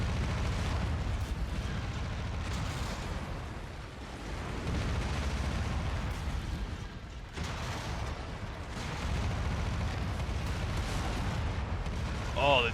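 Heavy AC-20 autocannon fire booms continuously in a MechWarrior game battle against an Atlas D, dense and loud, with a voice talking over the blasts throughout.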